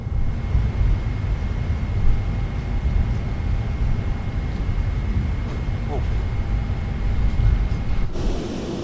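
An Airbus A320 jet departs in Microsoft Flight Simulator 2024, a steady distant engine roar and rumble held low and even under airport radio chatter and talk throughout.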